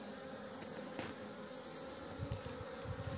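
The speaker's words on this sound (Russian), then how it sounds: "Пчелки летают уже" Honeybees buzzing as they fly around their hives at a forest apiary, a steady faint insect drone with a few louder passes close by, no voices.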